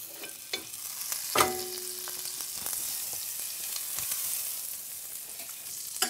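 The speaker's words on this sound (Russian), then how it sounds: "Теперь кусочек масла сливочного отправляем на сковородку." Butter sizzles steadily in a frying pan, a constant hiss with a few clinks and scrapes of a utensil against the pan.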